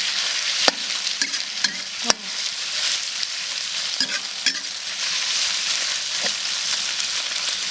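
Pork stir-fried in a wok gives a constant loud, close sizzle, punctuated by repeated sharp scrapes and knocks of the spatula at an uneven rhythm, with no talking.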